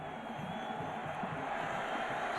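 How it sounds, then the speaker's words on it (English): Stadium crowd at a college football game, Washington at Oklahoma, rising into a steady broad roar of cheering, fairly loud and continuous throughout with no distinct voices standing out. "Now the crowd, for the first time really, I think, in the ball game, getting into it"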